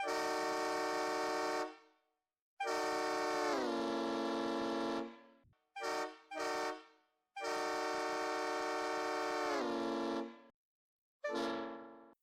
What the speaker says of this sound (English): Notice how the pitch of the train horn changed as it got close and then away from the camera.